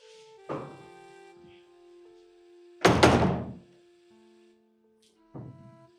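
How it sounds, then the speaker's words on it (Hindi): A house door is opened with a few wooden thunks: a soft knock-like thud, then a louder, sharper bang of the door moving, and another short thump, all over a quiet sustained musical background. "मैं दरवाजा खोल कर आती हूँ"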